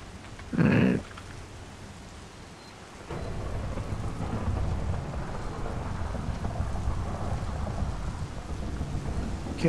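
Thunder and rain in the video game Lethal Company: one sharp thunder crack early on, then a steady, dense rain wash that grows louder and keeps going to the end, with no talking.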